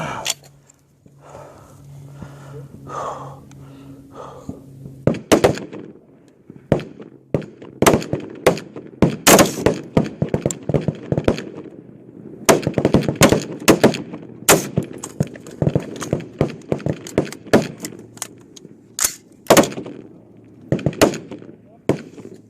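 Rapid rifle fire on a 300 yard NRA High Power service rifle range: many sharp, loud shots in quick bursts from nearby and neighbouring firing points, with brief pauses and a low steady background hum.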